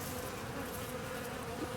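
A steady, dense buzz of bees circles the beehives during increased swarm-season activity, a continuous close hum with no break.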